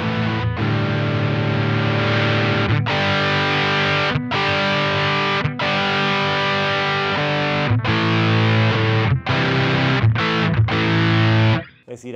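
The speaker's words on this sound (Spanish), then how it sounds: "ahí lo que tengo es distorsión al medio, el pote de ecualización o filtro apenitas hacia la derecha" An electric guitar runs through a ProCo Little RAT distortion pedal with the distortion set to the middle and the filter turned slightly right. Loud, sustained distorted chords ring one after another with short breaks between them, and the last one is cut off abruptly.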